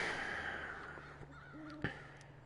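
Crows caw a few times in a video game, faint, hoarse calls over a steady hiss of low ambient noise, with no talking.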